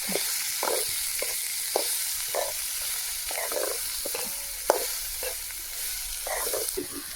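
Chopped spring onion stalks being stirred in a frying pan: a continuous sizzle broken by repeated scraping strokes of a utensil against the pan, close and regular, with no speech.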